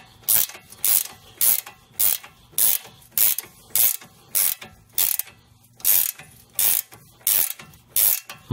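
A hand ratchet turns a 9 millimeter socket while working on a Dodge Caravan CV joint, giving about fifteen sharp, close clicking bursts in a steady back-and-forth rhythm with quiet gaps between strokes.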